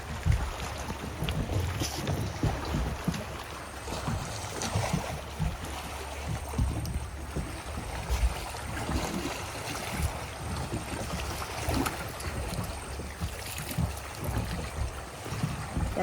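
A small fishing boat is rowed slowly on a river in the Sundarbans, with water lapping, irregular splashy oar strokes and some wind buffeting the microphone, with no clear talking heard.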